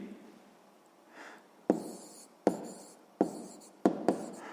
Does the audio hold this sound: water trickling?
no